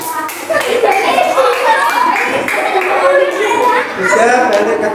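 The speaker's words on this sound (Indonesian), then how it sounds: "Bagus anak kelompok. Tepuk tangan kelompok" Schoolchildren in an Indonesian classroom clap together for a reading group, a loud, dense burst of hands mixed with children's chatter and a few chuckles throughout.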